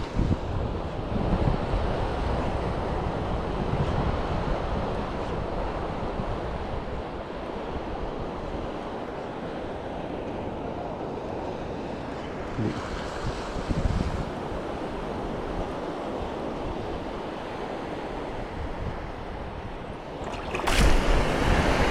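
Steady, heavy rush of big surf and monsoon wind noise, a constant churning roar with a slight swell near the end, no voices.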